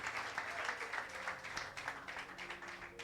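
A church congregation applauds during a Spanish-language sermon, a dense, fairly quiet patter of many hands clapping steadily for a few seconds with faint voices mixed in.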